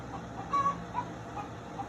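A hen clucks softly to her chicks in a few short, faint calls over a quiet background.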